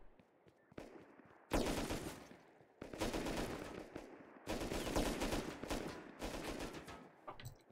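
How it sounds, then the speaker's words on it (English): Bursts of automatic gunfire in the survival game Rust, three long sustained volleys separated by brief pauses, loud and close with no talking over them. "Who the hell is shooting me?"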